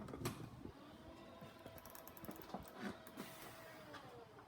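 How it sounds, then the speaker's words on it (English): The power tailgate of a 2023 Land Rover Discovery 3.0 D300 R-Dynamic HSE commercial moves with a quiet, steady mechanical whir and faint clicks, heard up close in a quiet setting. "Got power tailgate."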